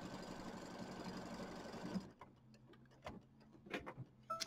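A home sewing machine stitches a small holiday quilt in a steady rapid mechanical whir for about two seconds, then stops, leaving faint scattered clicks and light handling taps.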